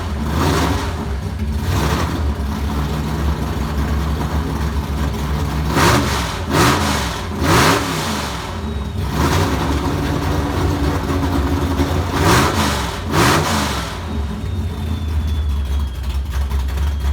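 A 1957 Chevy Tri-5 V8 idles loudly up close with a rough, rocking lumpiness, its steady rumble broken by several brief revs and surges.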